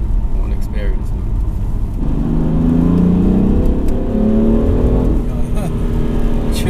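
BMW M3 engine accelerating hard, its pitch climbing steadily as it builds speed, heard from inside the cabin with a loud continuous drone and road roar.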